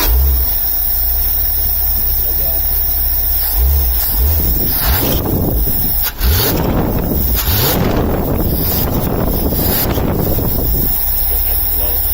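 A 1978 345 engine fitted with a 2100 Holley carburetor cranks and settles into a steady idle, running loudly and continuously beneath heavy wind noise on the microphone, with a brief bump partway through.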